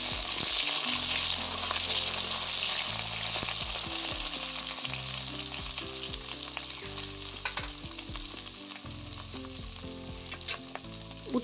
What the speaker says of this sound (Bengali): উচ্ছেগুলো খুব সুন্দর করে ভেজে নেব।